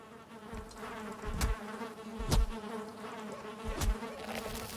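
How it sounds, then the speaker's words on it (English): Bees buzzing in the video game Valheim: a steady insect drone that swells into three louder, closer passes, with no voices. "I think those bees live another day"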